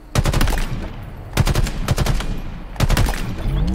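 Rapid automatic gunfire from a weapon in the Halo Infinite video game, three loud, close bursts of fast shots separated by brief pauses.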